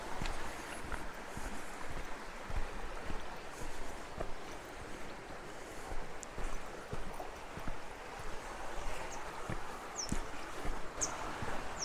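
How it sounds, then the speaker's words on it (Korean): Flowing water from a valley stream on a hot day gives a faint, continuous broadband rush heard alone, with slight fluctuations and no talking. "오늘 날도 더운데 물소리가 굉장히 시원하네요"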